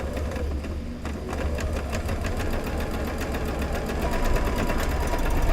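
A sewing machine stitches a quilt block in a steady, fast mechanical rhythm, the needle's rapid regular clatter running continuously and close, no talking.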